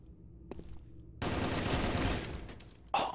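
A video game firefight: a couple of short bursts, then a dense sustained rattle of automatic gunfire lasting over a second, ending in another loud burst.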